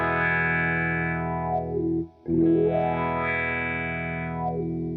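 A Cry Baby Classic wah pedal sweeps a sustained distorted electric guitar chord, the tone rising and falling in slow arcs, with a brief gap where the chord is re-struck midway; loud and alone.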